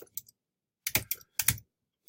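Typing on a computer keyboard: a few quick clustered key clicks and taps, close and crisp, separated by short silences.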